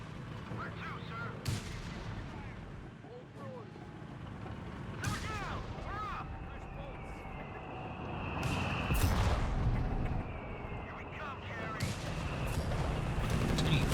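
A 3-inch gun fires in a tank video game, with sharp distant gun reports and scattered battlefield cracks under a steady background rumble, while a voice commentates throughout.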